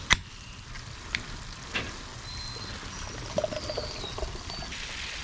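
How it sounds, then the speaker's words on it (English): Hazy pale ale from Cape May Brewing Company in New Jersey poured into a glass gives a soft, steady trickle and fizz, with a few faint clinks, heard close and quiet. "Have a nice hazy pale ale from Cape May Brewing Company in New Jersey."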